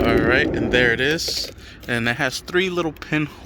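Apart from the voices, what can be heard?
No distinct noise like a dog, phone or traffic.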